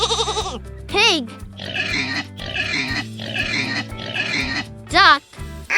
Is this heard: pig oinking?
yes